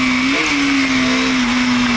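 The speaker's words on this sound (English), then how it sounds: "the revving sound on higher RPM and higher speed" A Bajaj Dominar 400 motorcycle engine holds a steady high-RPM drone while riding in rain on a muddy road, loud and close, with a constant whine and no talking.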